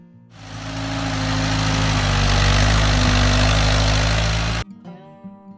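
An Allis-Chalmers D15 tractor engine idles in a steady, loud broadband rumble with a low droning hum, holding constant for about four seconds before cutting off abruptly.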